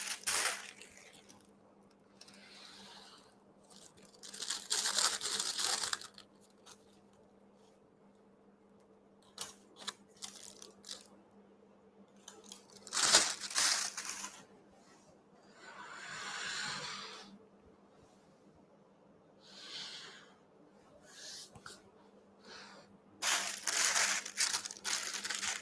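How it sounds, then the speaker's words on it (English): A plastic piping bag crinkles and crackles as a round metal nozzle, about size 2, is fitted into it, in several separate bursts of handling with quiet pauses between, in a calm indoor kitchen. "So I'm fitting the piping bag with a round nozzle."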